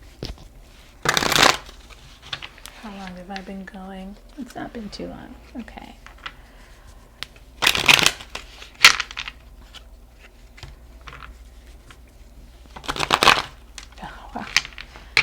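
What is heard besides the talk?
shuffling a Hermetic Tarot card deck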